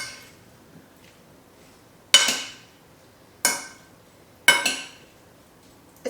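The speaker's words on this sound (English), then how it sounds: "And now let's mix our salad." A spoon clinks against a bowl three times with sharp, bright strikes and brief ringing tails while watermelon and berry salad with lemon zest and honey is tossed, the strikes set apart by quiet gaps.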